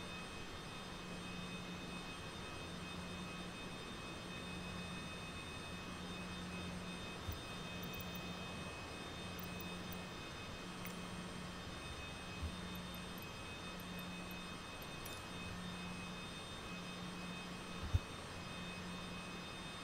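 Cessna Citation CJ4 business jet starting up in Microsoft Flight Simulator: a steady engine hum with a high whine and a low pulsing tone repeating at regular intervals, plus faint clicks, with no speech.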